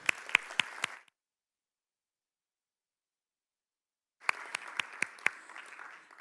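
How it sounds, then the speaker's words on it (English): Audience applause for volunteers at a Scratch conference presentation: two short bursts of clapping with sharp individual claps, the first about a second long, then silence, then a second burst of several seconds, moderately distant. "Just give them a round of applause"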